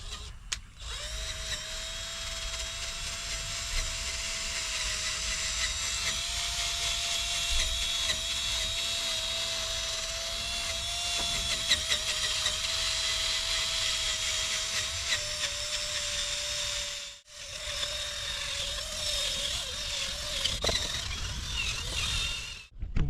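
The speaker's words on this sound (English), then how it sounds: "wet sand the headlights" A low-speed power tool wet sands the plastic headlight lens of a Saab 9-5 Aero with 3000-grit paper, making a steady whirring hum with a constant pitch that runs close and loud almost without a break, dropping out briefly near the end.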